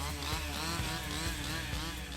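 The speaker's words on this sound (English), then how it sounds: "And then those who are operating the chainsaws start working." Chainsaws cutting in an outdoor field during harvesting, a loud continuous engine drone with rising and falling revs and repeated bite surges as the blades work, steady and close throughout.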